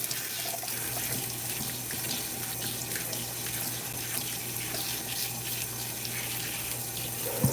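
A bathroom tap runs steadily into a sink or tub while a cat is bathed, a constant close hiss of flowing water with no pauses or talk.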